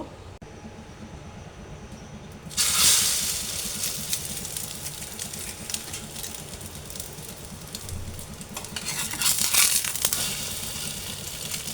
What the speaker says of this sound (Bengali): এখানে আমি ফ্রাই প্যান বসিয়েছি এখানে তিনটে ডিম গুলে নিয়েছি এই তো এখন এই ব্রেডগুলো আমি ভেজে নেব